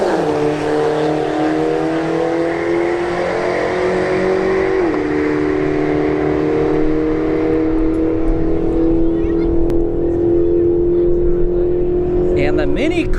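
A Mini Cooper and a Subaru WRX STI drag racing at a street-heat strip, engines revving with rising tones and an upshift around the midpoint, loud and close, with a voice talking over the cars.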